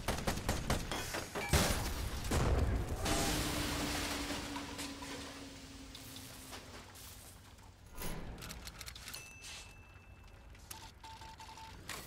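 Steampunk mech weapons firing in the turn-based game Ironcast: a quick rattling volley of sharp shots, then a long fading hum and later scattered clanks and blasts at moderate loudness, no talk.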